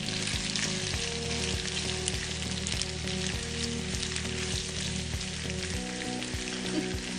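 Pasta mixed with hummus in a hot pan, a continuous close sizzle with regular scraping strokes of stirring running underneath.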